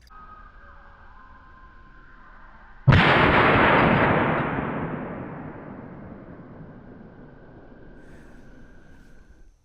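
A single Winchester SilverTip round is fired into ballistic gel: one sudden, loud report after a quiet stretch with a faint hum, followed by a long, fading reverberant tail.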